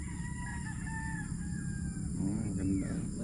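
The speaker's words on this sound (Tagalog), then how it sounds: "Dito, marinig mo manok." A rooster crows in a Philippine seaside village, a clear cock-a-doodle-doo rising midway through, with other fowl calling in the background over a low, constant outdoor hum.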